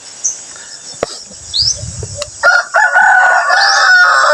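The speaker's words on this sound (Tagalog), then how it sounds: "Ayun manok yun ni yung John Lloyd" A rooster crows loudly nearby, a long drawn-out call in the second half, preceded by faint clucks and birdsong in the background.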